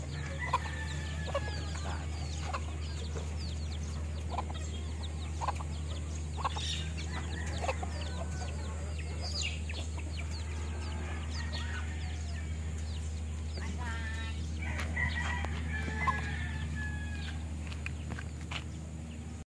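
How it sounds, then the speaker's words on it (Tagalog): Chickens cluck and chatter close by over a constant low hum, with scattered bird calls throughout. "Yan po ang mga alaga ni tatay ng mga manok."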